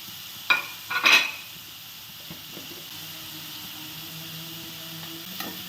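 Vegetables sauté in a pan, two sharp utensil scrapes at the start over a low, steady sizzle that continues faintly, with one more brief clink near the end.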